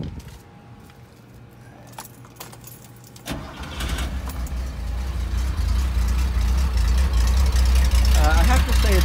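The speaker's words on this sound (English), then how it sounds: "So let's just start the motor for a sec" A car engine cranks over and catches at about three seconds, then settles into a steady, loud idle, with faint jangling and handling noises just before it starts.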